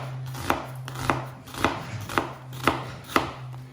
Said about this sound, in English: Cutting my onions again